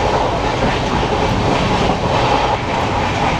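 A Konkan Railway train runs between Panvel and Ratnagiri, its steady loud rumble and rolling wheel noise filling the whole stretch without a break.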